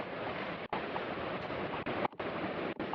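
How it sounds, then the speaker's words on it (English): Double waterfall running heavy after lots of rain, a steady broadband rush of falling water, close and continuous with no voices. "It's a pretty unique double waterfall."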